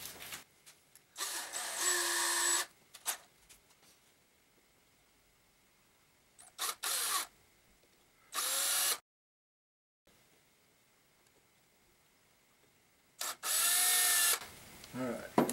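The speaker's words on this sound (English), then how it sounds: "So we're going to use a 3/16 drill. That should get through it." A power drill with a 3/16 bit boring through metal on a grinder slider build, several separate short bursts of whining spin with quiet gaps between them.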